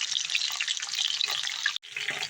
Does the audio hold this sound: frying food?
yes